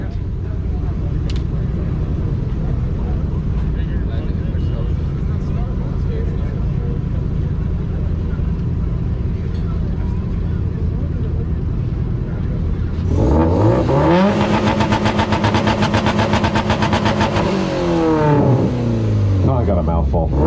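A turbocharged 2005 Subaru Outback revs hard at an outdoor exhaust competition, a loud sustained rev climbing and falling for several seconds after a stretch of crowd chatter and idling, with voices in the background.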